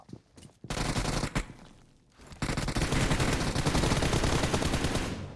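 Gunfire in PUBG Mobile: a few sharp shots ring out, followed by a burst, then dense rapid automatic fire that hammers on loudly and without pause until the end.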